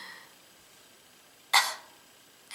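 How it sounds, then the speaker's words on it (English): A single short, sharp cough rings out against a quiet nighttime room, loud and abrupt amid near silence. "And the cough again."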